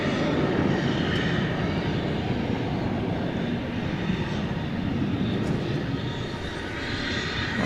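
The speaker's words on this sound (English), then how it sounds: "Flight 577 is headed to Denver. It's an Airbus" Airbus A321 jet on Frontier-era Dallas/Fort Worth airport grounds at night, its engine a continuous moderately loud roar with steady low rumble and hiss, no voices.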